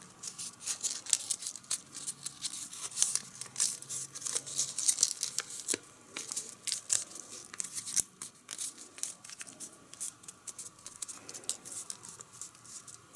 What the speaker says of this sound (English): Do the same thing with this side, so just fold this to the center there.